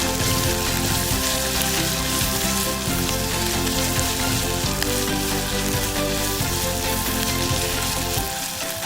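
Six green chillies sautéing in hot oil in a pan for Kerala-style fish curry, a loud, continuous, close sizzle with a faint stirring rhythm and no talking, cutting off just before the end.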